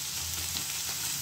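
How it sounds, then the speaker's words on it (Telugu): Onions frying in a pan for a mutton dish, a soft, steady sizzle close by with a few faint stirring touches, quiet and brief with no voices. "ఈ ఆనియన్స్ అనేవి ఫ్రై అయ్యే వరకు మనం చేసుకోవాలి"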